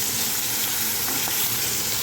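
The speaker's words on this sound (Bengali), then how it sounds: "মাছ ভাজা প্রায় হয়ে এসছে" Rohu fish nearly done frying in oil, a constant close sizzle with faint bubbling and spitting pops and no voices.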